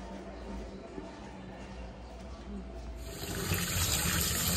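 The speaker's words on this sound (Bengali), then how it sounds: "চিকেনটা ধুতে হবে, পরিষ্কার করতে হবে" Raw chicken rinsed under a running kitchen tap, a steady broadband water gush that grows louder and brighter partway through, continuous and close.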